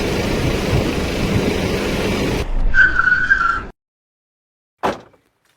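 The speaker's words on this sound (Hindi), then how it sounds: "सुनील गाड़ी रोको, कोई आदमी पड़ा है।" Car tires squealing as a vehicle skids to a sudden stop on a road, a loud screech after engine rumble, ending abruptly, then a brief thud.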